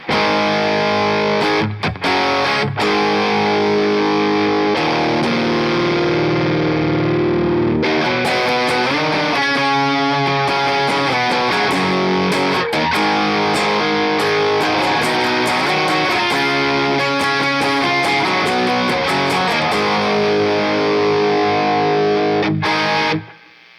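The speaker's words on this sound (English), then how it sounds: "this is the DRV with the drive and cut at noon and volume up a little above noon" Electric guitar driven through a DRV distortion pedal with drive and cut set at noon and volume slightly past noon, playing loud, continuous crunchy chords and riffs with a few brief pauses, alone and close throughout.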